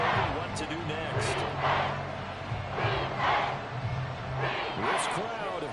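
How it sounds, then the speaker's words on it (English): Roaring stadium crowd in an American football video game swells and surges in waves, loud and continuous, with a commentator talking over the noise. "This crowd doing all they can"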